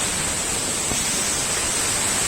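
A small waterfall near Antalya, Turkey, pours in a steady, dense wash of rushing water that fills the whole clip at close range, with no voices over it.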